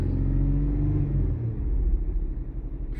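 A Ford Lincoln MKX engine with a lean/rich fault and suspected excess air, its throttle refusing to hold steady, rumbles loud and close, with revs rising and sagging unevenly and no voices.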